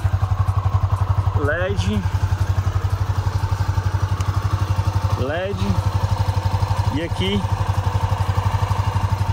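Honda CB 300F Twister 2023 motorcycle with a 293 cc single-cylinder engine idling close by, a steady low rhythmic throb throughout with someone talking over it.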